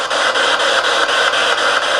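A PSB7 spirit box sweeping through stations with no noise reduction or reverb gives a loud, steady hiss broken by rapid, regular clicks and choppy fragments as it scans.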